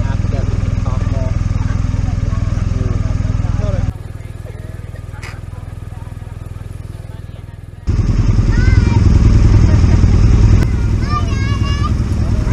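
A BMW R 1250 RT and a Triumph T100 riding toward a ferry, with a loud steady engine rumble and wind that drops for a few seconds and then returns. People talk throughout over the engine noise.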